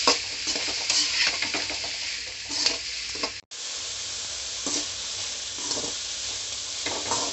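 Brinjal with capsicum and onion sizzles in a hot pan while a spoon stirs and scrapes it in steady strokes, with a short break midway before the frying and stirring resume, loud and close.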